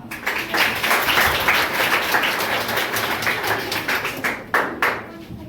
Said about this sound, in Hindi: आप सभी के बीच तालियों के साथ स्वागत कीजिए